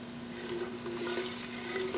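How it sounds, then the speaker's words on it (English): Cumin and other spices frying in hot oil for a pilaf, a steady soft sizzle with light stirring, close and continuous, no voices. "we're just gonna fry up the spices just a little bit"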